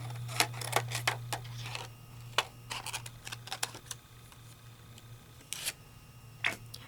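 Scissors cutting an acetate sheet for a die-cutting craft project, a series of sharp snips in quick, irregular succession over a faint steady hum.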